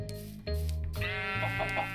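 Minecraft sheep bleating in the video game, one drawn-out wavering bleat followed by another, close and loud over a faint background.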